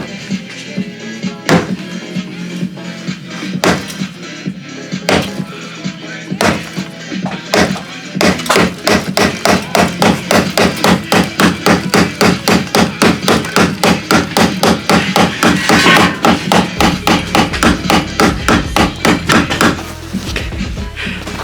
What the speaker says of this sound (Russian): у нас есть молоток и Volkswagen Golf 3